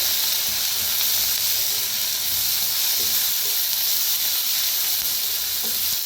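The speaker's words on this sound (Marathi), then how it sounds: "लाल तिखट, आता मिक्स करून भाजूया" Red chili powder and turmeric roast with the ingredients in a pan for an onion and dal dish, giving a loud steady frying hiss with a few faint stirring knocks and no voices over it.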